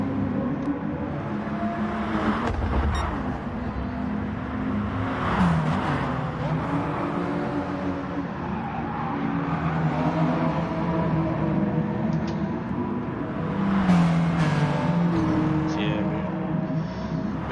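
Production race cars accelerate and pass at a track, engines swelling and fading through steady motor drone with a louder pass near the end; a voice talks over much of it.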